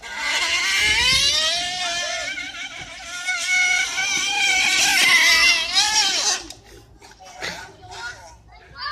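An electric skateboard being ridden gives off a loud, whining motor tone that rises and falls in pitch for about six seconds, then cuts out, leaving quieter scattered sounds.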